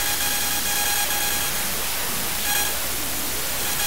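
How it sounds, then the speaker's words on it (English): Dense hissing static from a car remote's electromagnetic interference through a detector, steady and loud with faint whining tones inside the noise. "Here's a car remote also generating EMI."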